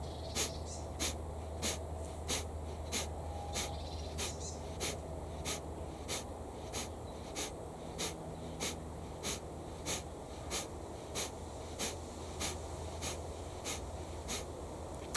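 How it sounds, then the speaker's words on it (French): Forceful rhythmic breathing during a meditation exercise, sharp exhalations repeating about once per second, close and steady throughout. "il faut une respiration par seconde à peu près"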